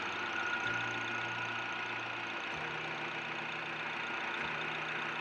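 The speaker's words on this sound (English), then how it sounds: "Motor sounds nice and quiet." A Pontiac Solstice convertible's engine idles quietly and evenly, a low steady hum with a faint rhythmic undertone and no voices.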